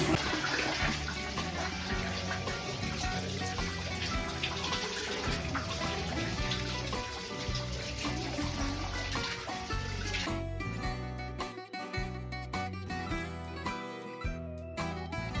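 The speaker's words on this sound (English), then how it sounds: "So all that water from the spring underneath eventually pops out above ground" Spring water gushing and splashing steadily out of the ground at Aphrodite's Spring near the Meteora monasteries, a continuous close, loud rushing flow that persists throughout with no talking.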